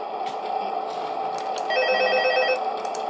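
A telephone rings in Five Nights at Freddy's 2 Scratch edition, a bright electronic bell trilling continuously and growing louder midway over steady game background noise.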